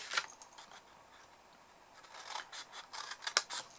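Scissors cut through paper for a folded Valentine's heart love note holder, giving a run of soft, close snips and crisp crunches that grow denser toward the end.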